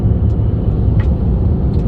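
A Tesla Model 3 cruises on Autopilot in the slow lane of a highway through Oregon's Columbia River Gorge with semi trucks nearby, producing a steady, loud low road and cabin rumble with faint brief hiss bursts.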